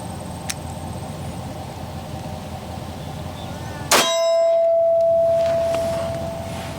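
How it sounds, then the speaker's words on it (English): A single sharp, loud gunshot from a Federal HST 185-grain round striking a cinder block, followed by a sustained metallic ringing tone that slowly decays, with quiet background hum before the shot. "This is Federal HSTs, 185 grains on cinder block"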